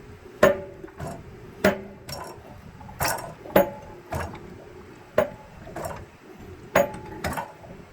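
A pipe wrench snugs a threaded cast brass fitting during an electric water heater install, giving about eight sharp metallic clicks and scraping knocks at irregular intervals, close and fairly loud, with no talking.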